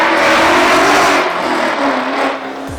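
A Ford Mustang S550 engine revs loudly and steadily for about three seconds, a dense close-up roar with no voices, easing off slightly toward the end.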